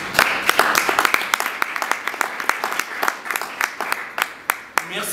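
An audience at a French-language trophy ceremony applauds itself in a round of brisk, uneven clapping. The individual claps are sharp and distinct rather than a dense roar, and they thin out toward the end.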